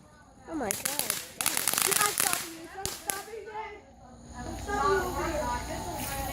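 Firecrackers go off in a rapid crackling string of sharp bursts, loud and close, followed by a second short volley while people chatter excitedly in the background.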